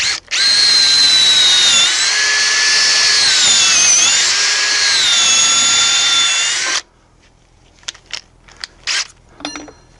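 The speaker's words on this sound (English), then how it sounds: "I'm just drilling to the point where this tip breaks out the back of this" Power drill boring into wood with a 1/4 inch bit for a pocket screw clearance hole, a loud close whine for about seven seconds, then a sudden stop followed by a few short clicks and handling knocks.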